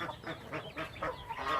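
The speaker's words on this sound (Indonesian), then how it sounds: "Ini mentok kita." A muscovy duck calls from inside a free-range chicken coop, a quick series of soft, breathy honking notes at moderate distance, with no talking.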